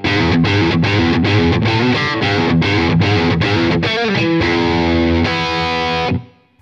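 Schecter Nick Johnston electric guitar played through distortion on the middle pickup position, loud chugging rhythmic strums giving way to sustained ringing chords that stop abruptly.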